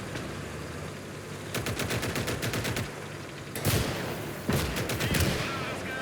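Mortar fire in the Call to Arms: Gates of Hell war game, a series of sharp, rapid detonations arriving in clusters, with a couple of louder heavy booms standing out over distant battlefield rumble.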